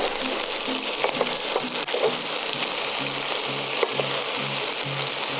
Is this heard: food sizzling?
yes